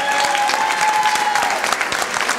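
A crowd claps for the Madonna del Paradiso chorale at an evening festival of music and vocational song, dense continuous applause that holds steady for a couple of seconds before easing slightly.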